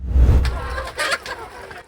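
Chickens cluck and call at a poultry farm raising over 200 chickens, with a low rumble and some background noise underneath.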